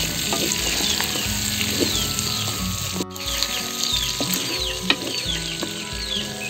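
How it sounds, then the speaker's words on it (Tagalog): Pork belly fries and sizzles steadily in its own rendered fat, a dense continuous crackle with occasional stirring scrapes and a brief dip near the middle, close and loud with no talking. "pamamatikain na natin yung ating pork belly"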